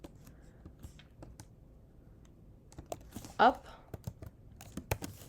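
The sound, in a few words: typing Python code on a computer keyboard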